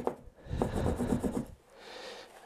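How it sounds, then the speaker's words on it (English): A cloth rubbing metal polish across the rear brake caliper of a Suzuki Bandit 650, a soft close scratchy scrubbing in back-and-forth strokes that fades to a quieter hiss near the end. "I just rub that across there. Just rubbing across the cloth"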